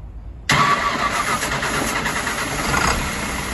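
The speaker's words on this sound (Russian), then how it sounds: "Запуск двигателя." After a brief hush, the Cursor 10 diesel engine of an Iveco Stralis truck cranks and catches abruptly, then settles into a loud, steady rumbling run.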